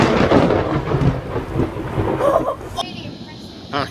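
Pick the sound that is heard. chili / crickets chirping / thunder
thunder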